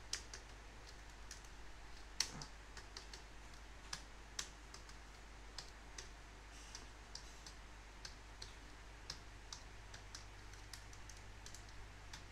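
Quiet typing on a computer keyboard, a steady patter of soft key clicks with one sharper tap, close to the mic and without talk.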